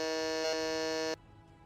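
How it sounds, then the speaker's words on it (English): A game show buzzer sounds a single sustained, harmonically rich electronic tone for about a second, then cuts off abruptly to room quiet. "Buzzer."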